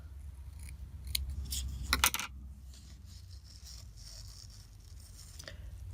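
Scissors snip through paper while a Christmas junk journal is being made: a quick cluster of crisp cuts in the first couple of seconds, then a quiet room with faint handling noise.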